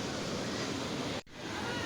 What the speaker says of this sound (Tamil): அது போகுது பாருங்கள் இந்த அருவி தான்